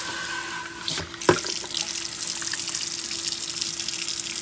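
Tap water runs steadily into a sink during dishwashing, with a brief clatter near the start, then a continuous, fairly loud hiss and splash to the end.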